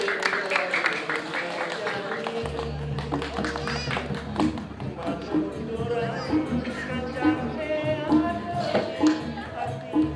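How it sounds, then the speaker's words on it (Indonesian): An audience claps at a Balinese drama gong performance, scattered hand claps pattering over crowd chatter and voices, with a low steady tone entering partway and lively talk mixed throughout. "Ada masyarakat mendukung tepuk tangan."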